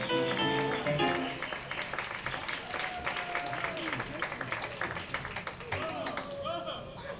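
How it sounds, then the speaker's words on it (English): An audience applauds warmly at a Christmas countdown show, a dense wash of clapping throughout with voices and cheers mixed in underneath. "Give her a warm round of applause."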